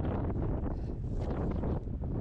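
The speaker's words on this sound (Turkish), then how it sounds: "burası biraz daha rüzgarlı" Steady wind buffets the microphone in a village in the Republic of Adygea, Russia, a continuous low roaring rush with no voices.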